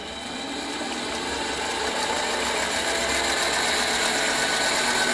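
A Pratt & Whitney lathe bores brass at 500 RPM on auto feed, giving off a steady mechanical hum and whine that builds slightly and then holds, with no voices.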